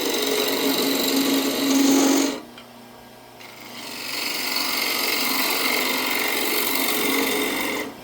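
A wooden bowl spins on a lathe while a gouge takes light concave cuts, giving a steady close scraping rasp that drops away for about a second and a half, then resumes at an even level.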